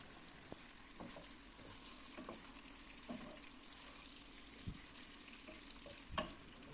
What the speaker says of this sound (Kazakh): Қазанға сұйық май құйып, оны қыздырып, етті саламыз және етіміз румяный тұз болғанша қуырып аламыз.